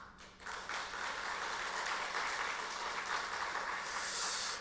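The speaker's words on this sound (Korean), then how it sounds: "격려와 축하와 감사의 박수 이 시간 한번 드리고 있습니다." A church congregation applauds its elders, including retired and emeritus elders, with steady, dense clapping that fills the room throughout, a brighter hiss of hands swelling near the end.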